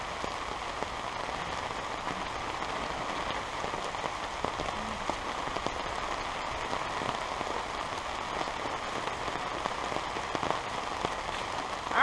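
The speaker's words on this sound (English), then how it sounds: "it started to rain" Steady rain falling outdoors, a dense even patter of drops hitting surfaces close by, continuous and fairly loud with no voices.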